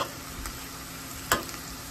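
Tortilla flautas fry in a pan with a steady, close sizzle, broken by a single sharp clink from a utensil partway through.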